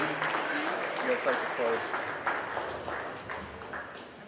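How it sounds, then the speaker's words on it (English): At a spring national cattle show, the audience applauds the cow class winners, with steady clapping that thins out slowly while voices talk underneath. "Let's give a big round of applause again"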